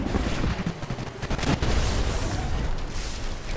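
Smart pistol fire in Titanfall, a dense run of rapid gunshots and thumps over constant battle noise, no voices.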